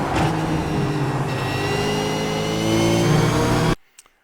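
Race car engine at Road America pulling through a corner in third gear, a loud, sustained, steadily rising drone with harmonic whine that cuts off abruptly, followed by a couple of faint knocks.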